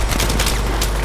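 Gunfire in Battlefield 3 co-op, a loud, close flurry of rapid shots crackling in quick succession for about a second.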